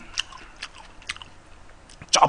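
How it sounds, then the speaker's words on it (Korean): Someone eats spicy braised pork trotters and dumpling soup, with soft, close, wet chewing and smacking repeating in small bursts, ending in a slightly louder crunchy bite. "쩝쩝대며 먹기만 하는 푸우에게 뭐가 이쁘다고 또 100점 선물을"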